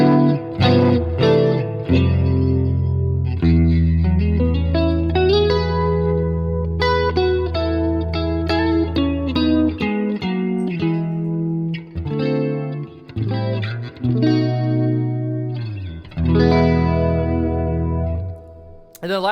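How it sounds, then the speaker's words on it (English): Electric guitar played through a chorus pedal on a Fender Tone Master Pro rig, sustained shimmering chords and picked notes ringing with a wide, modulated sheen, loud and close with no talking. "Next on the pedal board, I'm running a chorus pedal."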